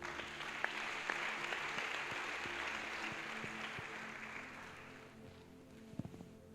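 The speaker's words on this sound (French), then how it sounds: "Acclame Jésus-Christ." A church congregation applauds Jesus Christ at a Sunday service, a soft, steady crowd clapping that fades out gradually, a few sharper claps standing out near the end.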